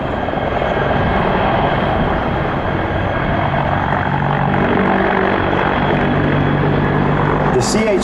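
Sikorsky CH-53K King Stallion heavy helicopter with three GE-38 engines flying a demo at the ILA air show, a loud, dense continuous rotor and turbine roar filling the scene, with an announcer talking over it.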